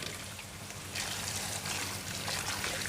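Small round brinjals being rinsed by hand in water, a soft steady trickling and sloshing that grows a little louder partway through, close and alone with no talk.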